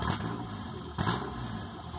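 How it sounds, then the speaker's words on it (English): A car engine idles on its own with no coolant in it, a steady low rumble near the mic with one brief bump in level partway through. "Look at this, idling on its own, and look at this throttle response."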